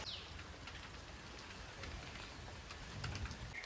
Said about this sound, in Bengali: হালকা বৃষ্টি পড়ছে।